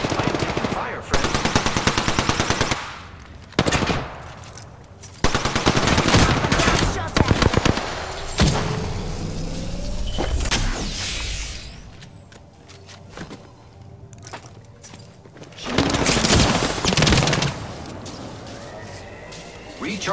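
Loud automatic gunfire rattles in a squad shooter video game, coming in several long, rapid bursts separated by short pauses, with other game effects mixed in between.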